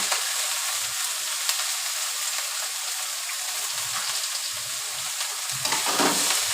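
Cabbage frying in a pan: a constant bright crackling sizzle, close and even throughout, with a few soft low knocks of stirring scattered through it.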